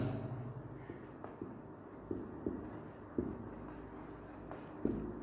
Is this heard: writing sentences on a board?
yes